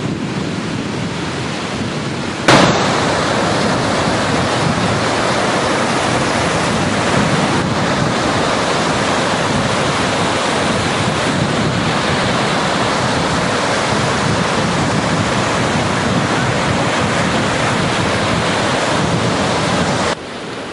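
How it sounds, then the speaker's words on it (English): Stormy sea waves rage onto a Florida beach at Panama City, a dense continuous roar of surf with strong wind buffeting the microphone, loud and unbroken for about twenty seconds after a sudden jump in level. "Possibly a storm on the sea, the water was raging"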